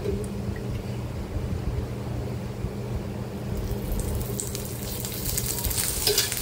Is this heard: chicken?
no